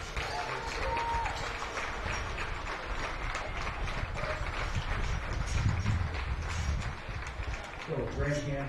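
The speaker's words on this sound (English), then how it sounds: "So let's give him a round of applause." A crowd at a beef cattle show claps to honor a young champion, the applause spreading as a continuous, moderately loud patter in a large hall while background voices murmur under it.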